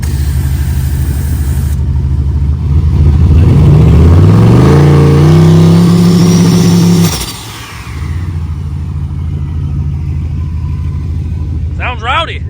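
A turbocharged LS V8 in a Crown Vic drag car rumbles at a loud, close idle, then revs up in a rising sweep, holds high, and drops back to a steady idle.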